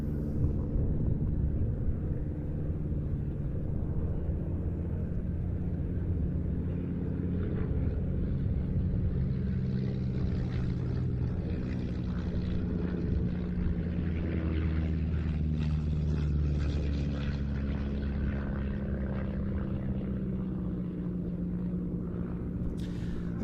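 A Miles Magister training aircraft flying over Duxford, a low propeller-engine drone with steady rumbling harmonics that swells and fades as it passes, moderately distant.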